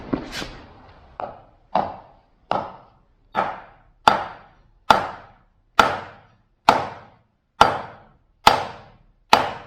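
A steady series of about a dozen hard hammer strikes on a piece of wood drive a part into a vintage 1970s front axle, evenly paced less than a second apart, each a sharp knock with a short ringing tail.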